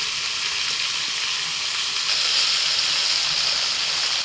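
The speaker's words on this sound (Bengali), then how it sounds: "আলুটা ভাজতে ভাজতে একটু পেঁয়াজ কুচি দিয়ে দিলাম।" Potatoes with chopped onion fry in a pan in a village-style kitchen, giving a steady, loud sizzle throughout that swells a little partway through, with no talk.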